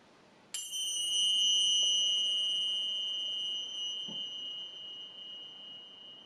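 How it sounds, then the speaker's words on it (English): A single pair of finger cymbals struck once, giving a bright, pure ringing tone that sustains and slowly fades over several seconds, close and alone. "Finger cymbals are great too."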